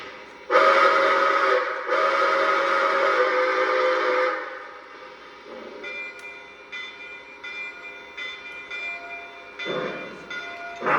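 A Lionel Legacy Greenbrier model locomotive pulls away, its loud steady mechanical roar and whistle-like tone running for several seconds before fading into a quieter rumble with brief bursts near the end.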